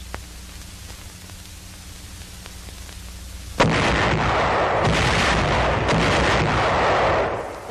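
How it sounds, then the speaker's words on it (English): Massed artillery of a battalion firing in a 1944 wartime film: quiet hum first, then a sudden loud roar of heavy continuous gunfire and blast noise sustained for about four seconds before easing. "Modern war often demands the massed fire of a battalion or a group of battalions."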